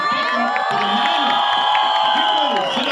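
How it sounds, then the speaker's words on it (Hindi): A theater audience at a film trailer launch in Mumbai cheers and shouts loudly, a dense continuous crowd roar with whoops and some clapping, filling the whole moment without pause. "इस टीम के लिए एक बार जोरदार तालियां"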